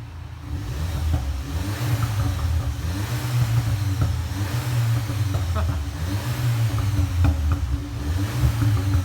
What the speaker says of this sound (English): You can hear a little bit of pops, a little bit of burbles